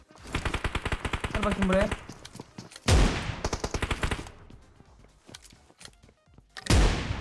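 Rapid automatic gunfire in the shooter game PUBG Mobile, a bursts-and-pauses pattern of sharp repeated shots, with someone talking over parts of it.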